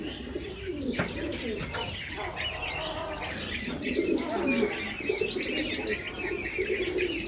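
White-cheeked turacos and roul roul partridges feed on fruit salad, filling the air with steady layered bird calls, coos and chirps, with occasional wing flaps close by.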